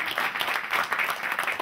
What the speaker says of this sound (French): On peut l'applaudir, ouais.